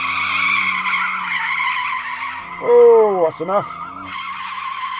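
A Porsche 911 GTS spinning out as its tyres squeal and skid loudly in a rising, wavering screech over the engine's steady drone, with a short voice exclaiming during the slide.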